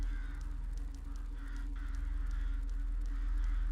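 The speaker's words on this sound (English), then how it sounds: "There's crows cawing." Several crow caws ring out at intervals over a steady low droning hum, faint and somewhat distant, in a video game at night.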